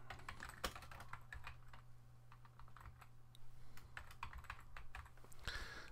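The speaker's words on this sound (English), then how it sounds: "and then just go ahead and type your name." Someone types their name on a Mac computer keyboard in Photoshop CS6, producing quiet, close, irregular bursts of key clicks over a faint steady hum.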